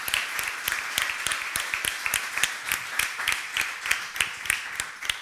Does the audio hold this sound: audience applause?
yes